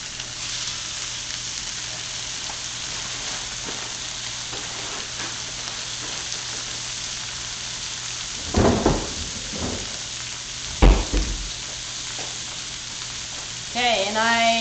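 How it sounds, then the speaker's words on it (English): Coffee-rubbed flat iron steaks hiss in a hot pan as a steady broadband sizzle, with a few louder crackling bursts and brief speech near the end. "so now I'm going to go ahead and add my steaks. And I want to hear the sizzle."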